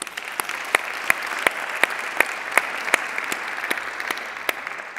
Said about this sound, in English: Another applause for them,